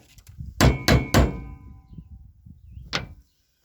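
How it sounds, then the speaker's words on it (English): A socket is tapped against a universal joint clip to seat it, giving three sharp metallic knocks in quick succession, then a fourth after a pause, close and clear. "Take your socket again. And give it a few taps."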